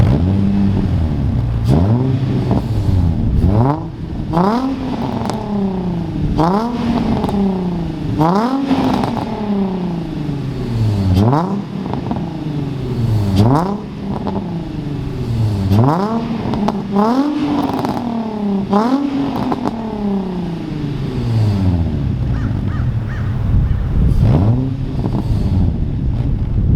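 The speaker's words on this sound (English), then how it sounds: "That's the sound of the new G35 exhaust with the silencer on." Infiniti G35 coupe with a 3-inch single-exit exhaust and silencer fitted, revved repeatedly from idle: a series of sharp rising rev sweeps that fall back between blips, close and loud.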